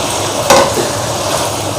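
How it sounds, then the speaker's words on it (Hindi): Fried okra tipped into a simmering mutton stew in a pan, a sudden wet splash and sizzle burst followed by a steady bubbling hiss, close and brief, with no talking. "अब मैं इसके अंदर भिंडी ऐड कर दूँगी"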